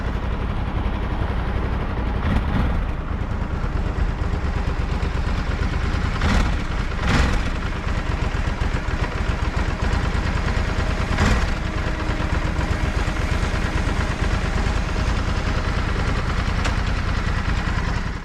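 Ducati DesertX motorcycle engine idling after a cold start, a steady close rumble throughout with a few brief sharper bursts, no talking.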